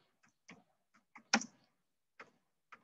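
Soft, sparse keystrokes on a computer keyboard while typing text into an MS Word document, with about eight irregular taps and one slightly louder clack near the middle, quiet and close with silence between.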